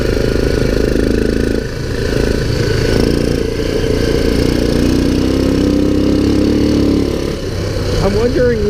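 A 2001 Kawasaki Bayou 300 ATV engine idles steadily close by after valve timing work, a low continuous rumble with a brief dip partway, under a voice talking throughout.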